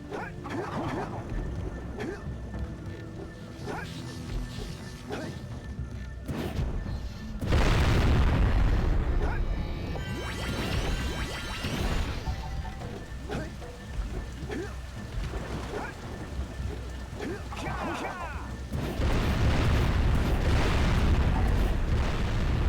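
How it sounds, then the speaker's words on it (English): Heavy booming video game explosions in Jak & Daxter: The Precursor Legacy with rumbling low end, one big burst midway and another near the end, mixed with crackling debris and some voices underneath. "The sound mixing on those explosions is really weird."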